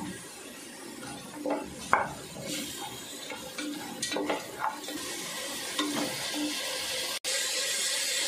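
A spoon stirs green chillies in a pot for mushroom biryani, scraping and clattering over a steady sizzle of frying, close, with no talking.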